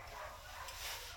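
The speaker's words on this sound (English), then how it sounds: "My gosh, there's some angry dogs out there." Angry dogs barking somewhere outside, coming through faintly as a low, continuous background of yaps and woofs with no clear individual barks standing out.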